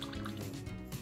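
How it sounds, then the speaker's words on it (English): Cream poured into a mixing bowl already holding sugar, vanilla beans and vanilla extract, a short, quiet liquid glug and drip close by. "I'll add the cream."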